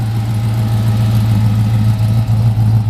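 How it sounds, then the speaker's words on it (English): A 1955 Chevrolet 210 with polished Borla mufflers and dual tips idles with a steady, deep, loud engine rumble heard close up, with no voices. "It's got some polished Borla mufflers. So it's a nice little note, not too obnoxious."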